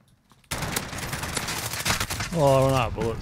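M4 rifle gunfire in Call of Duty Modern Warfare on the Docks map, a loud continuous stream of rapid shots starting abruptly, with a voice joining near the end.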